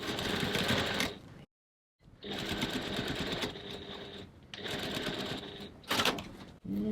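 Sewing machine stitching a crossbody bag seam at stitch length 2.4, back-stitching at the ends, a loud close whirring run broken by a brief pause and short stops and restarts.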